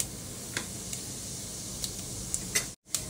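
Cumin seeds crackling in hot oil inside a pressure cooker, a faint steady sizzle with a few sharp pops scattered through.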